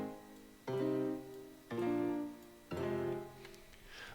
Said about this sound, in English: I played them on a piano, and the chord progression sounds like this.